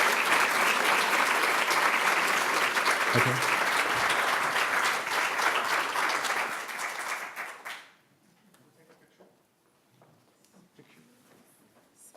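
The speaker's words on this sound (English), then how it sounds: "Can we give a round of applause again to our slam poetry group?" An audience at a diversity awards ceremony gives a slam poetry group a loud, sustained round of applause that fades out after about eight seconds. A brief spoken word follows in the quieter room.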